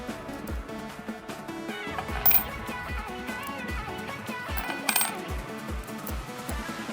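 50p coins are set down one after another in a steady rhythm, each landing with a metallic clink, close by and clear against faint background music.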